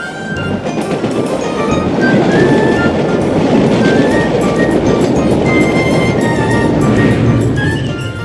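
A train rumbles past close by at a railway station with a steady, dense roar and rattling wheels, faint high squeals riding on top throughout.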